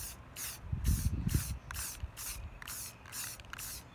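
Spray paint applied in a light coat to a Dollar Tree whirligig, a series of about seven short hissing bursts in a steady rhythm, close and fairly loud, with a few soft handling bumps between them.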